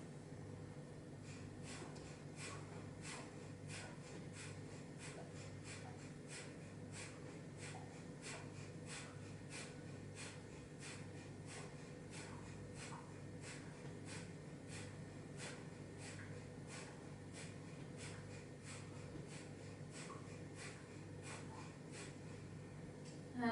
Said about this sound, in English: I'm going to do 30 of this Bhastrika breathing.